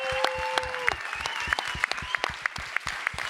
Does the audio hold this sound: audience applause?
yes